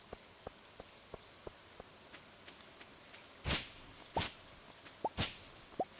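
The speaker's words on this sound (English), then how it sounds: "Oh, it's raining today, so we don't have to water anything either." Steady rain falls in the farming game Stardew Valley, a soft even patter with small regular drip ticks and a few louder splashy bursts, heard alone with no talk.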